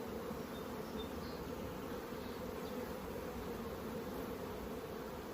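Honeybees buzz steadily up close, a constant droning hum with no pauses or talk.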